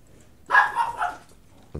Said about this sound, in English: One dog goes off, they all go off.